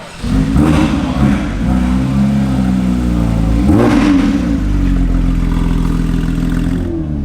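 Nissan R32 engine revving hard, rising and falling twice, with a loud throaty rasp and mechanical clatter, close and sustained with no talk.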